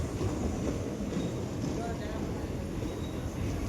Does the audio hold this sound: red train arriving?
yes